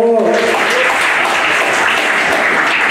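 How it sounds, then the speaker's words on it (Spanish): Crowd applause at a bull event in Chicago, a steady, dense wash of clapping that fills the whole stretch at full strength after a brief opening. "Un aplauso, por favor."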